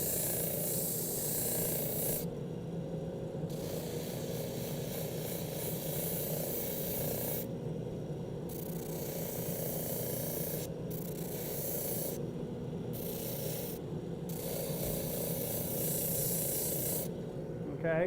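Steady abrasive rubbing of 150-grit sandpaper against an intarsia wood piece, a continuous close scratchy hiss with brief pauses between strokes.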